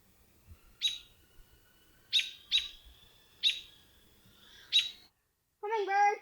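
Several sharp, high bird chirps ring out one by one at irregular intervals in a quiet outdoor setting near an owl, followed by a brief warbling call at the end.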